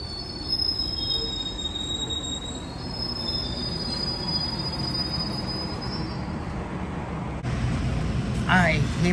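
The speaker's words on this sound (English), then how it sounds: "here we are on the train to Union Station. You can see here. Just leaving from Weston Station." A GO Transit commuter train pulls away from Weston Station bound for Union Station, heard from inside as a steady rolling rumble with high, sustained wheel squeal over the top, ending in a louder clattering stretch.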